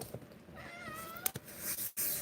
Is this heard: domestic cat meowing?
yes